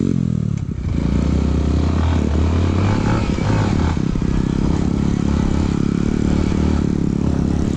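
An enduro motorcycle pulls hard in second gear, its loud, steady engine roar close by and sustained with a slight rise in pitch, plus some clatter and scraping from the trail.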